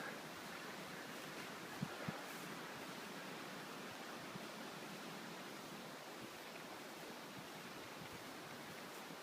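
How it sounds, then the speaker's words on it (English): Wind rushes through the trees high in Utah's Pine Valley Mountains, a steady, soft broadband hiss that stays even and fairly faint throughout, with a couple of tiny knocks and no voices. "Hear the wind through the trees."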